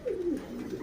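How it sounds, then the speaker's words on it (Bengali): A big Pakistani rooster with a bright red comb gives one short, low, throaty call, close by and alone. "এই দেখেন পাকিস্তানি রাওয়া, আমাদের বাসায় বলে রাওয়া"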